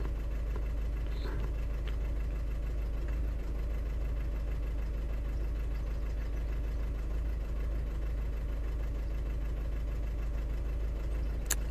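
A 1.6 TDI diesel engine in an Audi A3 idles with a misfire, giving a steady low rumble with a faint uneven knock running through it. No one speaks.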